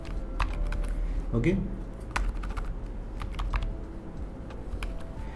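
Quick bursts of computer keyboard typing clatter close by while writing PHP and MySQL code, with someone speaking briefly over the keys.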